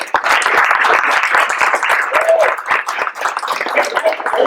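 An audience at a keynote talk applauds to welcome the speaker, with close, crisp clapping from a smaller crowd that stays steady and fairly loud throughout.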